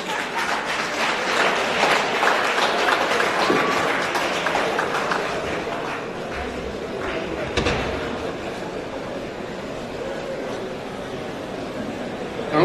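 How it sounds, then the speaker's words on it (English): An audience at a university inaugural lecture claps in a sustained round of applause, a dense wash of many hands that is loud at first and slowly eases off. "Can we rise up and give another round of applause for ourselves?"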